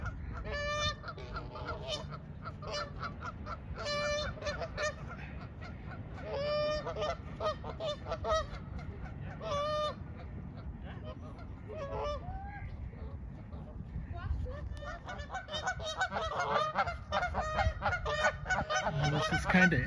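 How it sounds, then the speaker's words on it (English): Two competing pairs of Canada geese honk back and forth in repeated bursts in a park in West Allis, Wisconsin, loud nearby calls trading with others, over a low outdoor rumble and faint background voices. "Two competing pairs of geese honking at each other."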